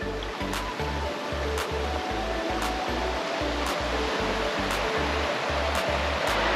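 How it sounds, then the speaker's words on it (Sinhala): Strong water pours and churns at Devil's Punchbowl waterfall in Arthur's Pass, a loud, steady broadband rush filling the whole clip, with a faint low rhythmic pulsing beneath it. "වතුර මෙහෙන් එන්නේ ටිකක් වතුර පාර ටිකක් සැරයි"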